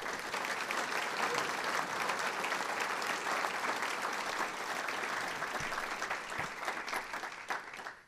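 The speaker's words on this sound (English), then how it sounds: "Give them a round of applause." A breakfast audience at a chamber of commerce event gives the mayors sustained applause, a dense, even wash of many hands clapping at once, steady in loudness and heard from across the room before it tapers off.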